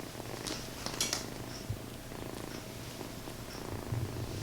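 Soft, steady purring from a tiny kitten, close and continuous with a low rhythmic rumble, alone apart from a few faint high chirps.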